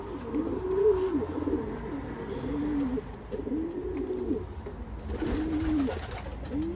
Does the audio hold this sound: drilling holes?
no